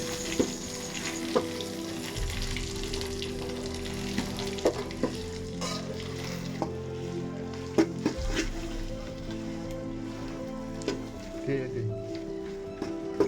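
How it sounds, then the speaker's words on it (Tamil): Mint and coriander chutney sizzles and fries steadily in a hot pan while it is mashed and stirred, with scraping knocks of the utensil against the pan. "இதில் நல்லா மசிச்சு பெரட்டி நல்லா சூடு ஏற்றிக்கிங்க"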